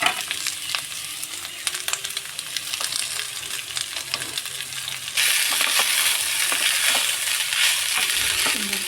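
Vegetables hitting a hot wok and being stir-fried for mixed fried rice, loud continuous sizzling with scraping and tossing clatter that swells louder midway.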